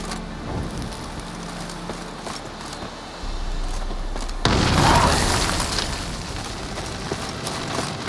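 A ghoul nest blown apart in The Witcher 3: Wild Hunt, heard as a sudden loud burst partway through that rolls into a sustained crackling, debris-like roar over a rainy game ambience, with no talking.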